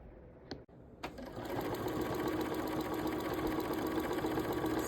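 Sewing machine runs a quarter-inch seam on a beige table runner, starting after a couple of faint clicks and then settling into a steady, close, rapid rattling hum with no talk.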